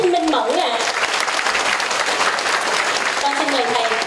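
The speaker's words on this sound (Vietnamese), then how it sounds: "Con xin một tràng vỗ tay dành cho Hòa Thượng Thích Minh Mẫn ạ." Audience applause for a Buddhist monk at a vegetarian fundraising banquet, a dense steady clapping that fills the room at moderate loudness, with a voice speaking over it at the start and near the end.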